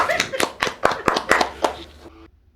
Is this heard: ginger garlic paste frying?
no